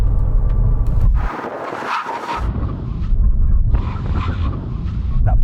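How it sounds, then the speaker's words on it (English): Heavy sports cars, including a Porsche Panamera, BMW M8 Gran Coupe, Audi RS6 and AMG E63, making a full emergency stop. A loud, close rumble of road and wind noise dips for a moment, then returns, with no voices over it. "When we reach it, full emergency stop."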